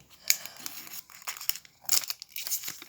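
A foil wrapper of a 2016/2017 Champions League trading card pack being cut open with scissors, giving close, crisp crinkling and tearing bursts in quick irregular succession.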